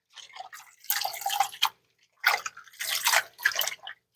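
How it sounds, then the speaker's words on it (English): Freshly washed spinach left to drain, water dripping and splashing in irregular bursts with short pauses between them, close and fairly clear, with no voices. "I'm going to leave it to drip for a little while."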